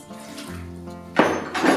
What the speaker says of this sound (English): We put half a glass of water.